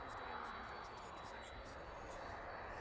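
A Boeing 737 MAX airliner taxis off an airport apron toward the runway at East Midlands Airport, giving a steady, distant engine roar, while a person talks over it.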